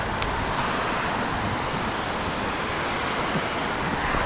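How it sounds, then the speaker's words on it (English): Steady rain falls outdoors on a hiking trail, heard as a loud, even wash of hiss with no breaks across the whole clip and no voices. "And here comes the rain, just like that."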